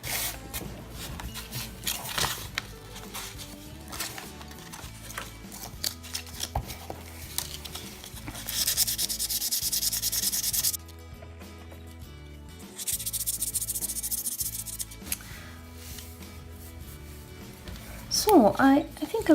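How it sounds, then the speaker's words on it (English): Fine-grit sandpaper rubs across a Monster High Frankie doll's plastic surface in repeated short strokes, close and fairly quiet, with a few louder handling clicks near the end. "So now I'll try to sand it in a finer grease"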